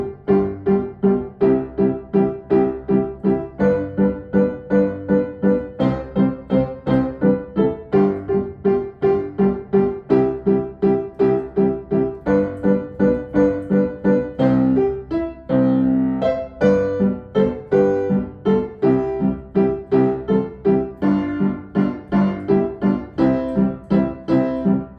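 Two players at one piano playing Chopsticks as a duet, a bouncy repeated pattern of paired notes over a low accompaniment, steady and lively throughout, close and unaccompanied by talk.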